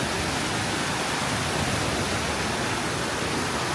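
Steady, dense roar of falling water from a nearby waterfall in the Porcupine Mountains, broadband and unchanging throughout with no voices.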